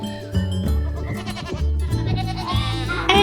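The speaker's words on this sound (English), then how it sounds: "And you can see a goat in the background there." A goat bleats on a farm, its wavering calls repeating clearly and close by through most of the stretch amid other farm sounds.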